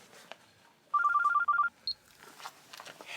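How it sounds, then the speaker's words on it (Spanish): Telephone ringing in a television drama scene, a quick electronic trill in two short bursts followed by a single higher chirp, moderately loud over a quiet room background. "¿podrías contestar tu teléfono?"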